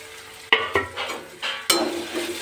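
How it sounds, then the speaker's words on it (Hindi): Tomatoes fry in hot oil alongside browned onions under a constant sizzle, with several sharp clatters and scrapes as a spoon stirs the pan. "तो अभी हमने सारा मतलब जो भी मटेरियल वगैरह डाल के उसको फ्राई कर रहे हैं।"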